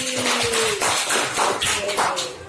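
Children in a classroom clap their hands together, a quick run of sharp, fairly close claps that fall into a loose rhythm, with brief voices rising over them.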